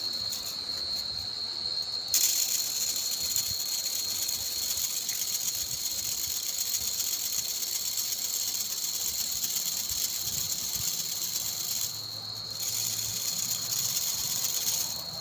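A bamboo rattle used to call field rats gives a continuous high, buzzing trill like a cricket chorus. It drops out briefly twice and otherwise runs unbroken and fairly faint.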